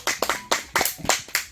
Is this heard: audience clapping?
yes